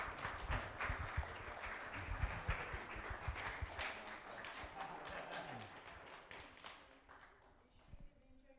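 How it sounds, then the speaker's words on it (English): Audience clapping at a live evening interview event with a rugby player, a spread of claps and taps that gradually thins out, with voices heard underneath. "You can clap."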